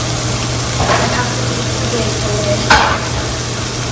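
Prime rib burger patties fry in olive oil in a pan, giving a steady, dense sizzle over a low hum, with a couple of brief louder spits or scrapes.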